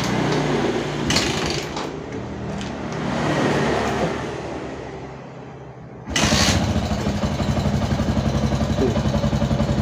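A Yamaha Jupiter MX motorcycle engine idles steadily up close, its uneven background hum giving way after a few seconds to a louder, even, rapid putter.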